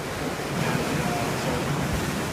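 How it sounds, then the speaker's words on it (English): Big ocean waves crash along a Maui shoreline, a continuous loud roar of surf and rushing water with wind buffeting the microphone, steady throughout. "the waves are kind of crashing big today"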